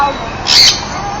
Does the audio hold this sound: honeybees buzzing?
no